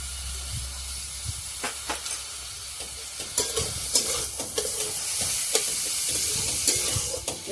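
Ingredients seasoned with salt fry and get stirred in a pan, making a hissing sizzle with repeated scraping and clattering strokes of a spatula, close and moderately loud, without speech.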